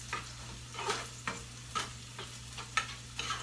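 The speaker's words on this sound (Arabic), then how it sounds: "حتى لما حطيتها البصلة عملت صوت، الزيت كان سخن" An onion goes into hot oil and fries, giving a faint, steady sizzle broken by short crackling bursts of stirring every half second or so.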